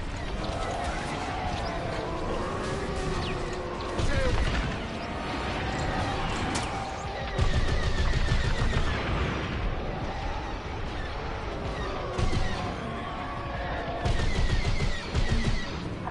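Rapid blaster and gun fire in a Star Wars space combat game, dense repeated bursts over continuous engine and battle noise throughout.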